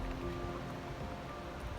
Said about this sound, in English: it's raining and windy